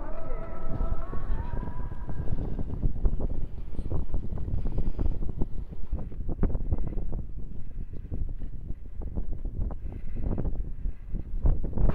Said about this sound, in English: Day 24, a very, very windy day.